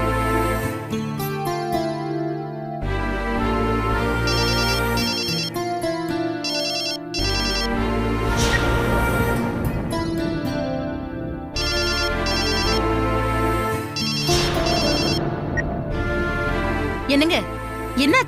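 Mobile phone ringtone playing loudly and continuously as repeated incoming calls arrive, a melodic tonal pattern filling the clip with brief pauses, with a voice speaking over it.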